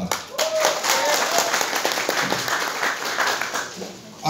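Crowd applause at a Nepali gathering, a dense sustained roar of many hands clapping for several seconds, fairly loud, with voices mixed in beneath.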